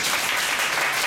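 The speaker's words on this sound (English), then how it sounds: "Let's give them a very big applause." Audience applause for the two Toastmasters of a club event, a dense, steady patter of many hands clapping close by throughout the short burst, with no voices over it.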